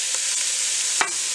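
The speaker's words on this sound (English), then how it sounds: "sizzle, sizzle." Soft, steady sizzling of ground beef and Italian sausage browning in a pan, with a few quick stirring scrapes cutting through.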